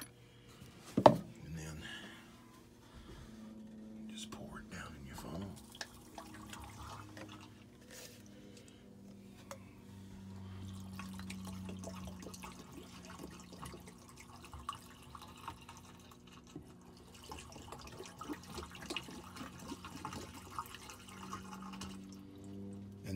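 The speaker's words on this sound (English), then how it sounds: "And then I fill these two bottles up with hot water" Hot water runs and splashes as two bottles are filled during maintenance on a Trane TAM air handler, a faint, uneven trickling and pouring that continues for a long stretch with a few louder knocks.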